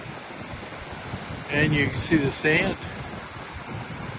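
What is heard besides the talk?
strong wind and waves on Silver Lake beach, Michigan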